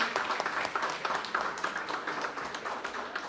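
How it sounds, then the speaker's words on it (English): Crowd at an awards ceremony gives a round of applause, a continuous, fairly close patter of many hands clapping with no talking. "another round of applause"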